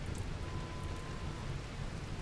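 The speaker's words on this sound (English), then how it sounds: "But it's raining." Rain falling in the video game RimWorld, a steady, soft hiss of rainfall with a low rumble underneath, even and continuous with no talking.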